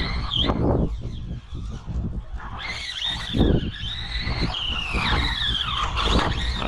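A Kyosho Outlaw Rampage RC car drives along a road, its motor whining and rising in pitch while the loose bodywork rattles and squeaks, close and fairly loud, with bursts of skidding noise and no talk.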